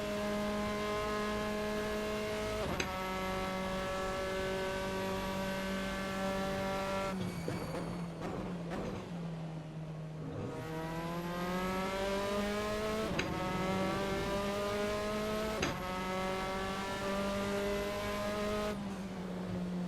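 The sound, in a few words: Formula 4 race car engines at Monza, Assetto Corsa video game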